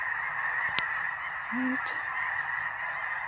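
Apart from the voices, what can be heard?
snow geese honking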